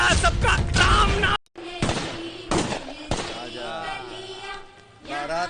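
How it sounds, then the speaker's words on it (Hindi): Gunfire crackles through a tense Hindi movie scene at a wedding procession, with several sharp bursts spread across the stretch, mixed with voices and background film sound. "ये मंडोर के बंदूकों की आवाज पटाखे की आवाज लग रही है।"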